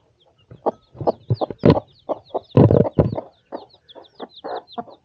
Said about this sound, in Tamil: இதில் தான் இருக்குது கோழி குஞ்சு.